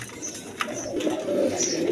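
A pair of pigeons, a large sky-blue Rajgolla female and her male, coo in soft guttural rolls that swell louder toward the end, close by, with a faint click and light chirps but no talking.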